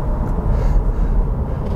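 2022 Chevy Bolt EUV electric hatchback accelerating at full throttle, a low steady cabin rumble of road and motor noise, close and continuous with no talk.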